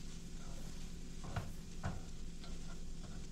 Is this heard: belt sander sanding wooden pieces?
no